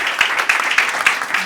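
An audience at a business presentation breaks into applause, a short burst of loud, close clapping.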